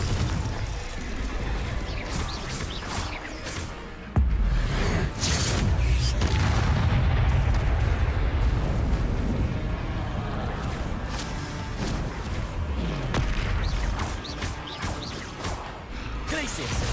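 Confringo blasting spells in the Hogwarts Legacy video game go off as repeated booming explosions and crashes in the middle of combat, with a voice talking over them.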